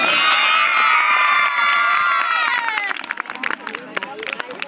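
At a school quiz-show event, a crowd of children cheers and shouts loudly, with high, excited voices giving way to a burst of ragged, close clapping.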